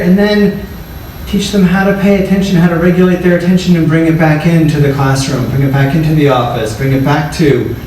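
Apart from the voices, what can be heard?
No everyday noise stands out behind the speech.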